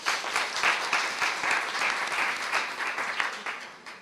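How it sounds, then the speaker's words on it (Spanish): An audience gives a warm round of applause for an opera singer and cultural promoter, steady dense clapping with slight swells that carries through the whole few seconds. "Un aplauso, Sergio."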